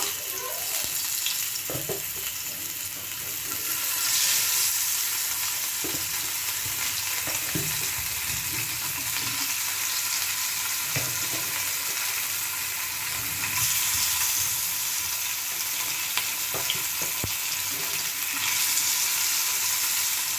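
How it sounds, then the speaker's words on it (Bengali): Fish pieces fry in hot oil for a Bengali-style fish curry, a loud, sustained sizzle with bursts of spitting and popping that swell and ease over about twenty seconds. "গরম হয়ে গেলে তারপরে মাছগুলো ফ্রাই করবে, তাহলে সুন্দরভাবে ফ্রাই হবে।"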